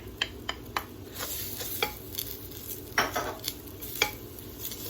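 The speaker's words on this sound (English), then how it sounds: "Just gonna let the onion saute in there for a little bit." Onion sautéing in a pan for Mexican rice, a steady low sizzle under sharp, irregular clinks of a utensil scraping and tapping the pan as it is stirred, close up and without talk.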